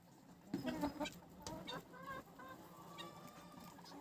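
An adult rooster and young hens cluck and call in a winter farmyard with turkeys, ducks and guinea fowl, the calls close and scattered over soft background noise.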